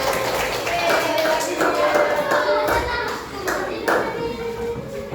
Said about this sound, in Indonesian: Kita tepuk tangan buat semuanya.